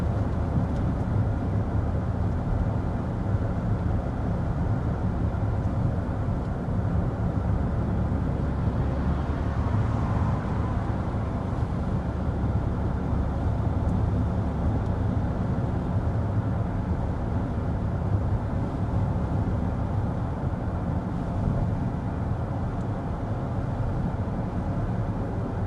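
Interior cabin noise of a 2026 BMW X7 in comfort mode with the fan at its lowest speed, a steady low road rumble and hum held evenly throughout, with no voices.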